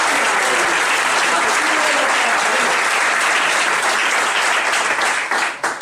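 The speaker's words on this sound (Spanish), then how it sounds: "Un aplauso a Lula." A large audience claps continuously in dense, sustained applause that holds steady for several seconds before tapering off at the end.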